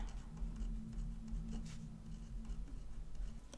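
A pen scratches across the paper of a Happy Planner in quiet, irregular short strokes, faint and close, with a steady low hum beneath.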